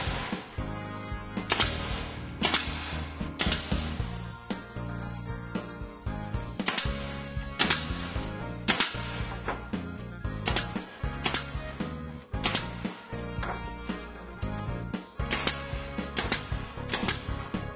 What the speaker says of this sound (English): we're going to go ahead and step 10, align our corners, brad nail,